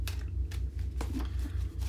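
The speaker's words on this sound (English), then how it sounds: "I just need to shuffle one more time" Tarot cards are shuffled in soft, repeated riffling bursts over a steady low hum, fairly quiet and near.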